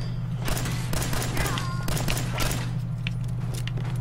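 A 10mm pistol fires in Fallout 4 in a rapid string of sharp, close shots over a steady low hum, with no talking.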